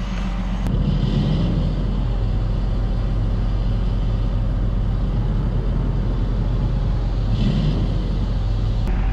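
A tractor with a bale shredder creeping forward, with a loud, steady engine rumble and a constant mechanical drone close by and no one talking.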